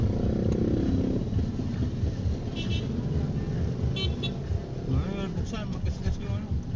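Busy street traffic rumbles close by with passing motorcycles and a truck, and short horn toots sound over the engines while people talk throughout.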